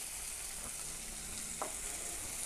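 Onion, green chilli and turmeric fry in a pan as samosa filling, giving a steady broadband sizzle with a couple of faint stirring clicks, and no talking.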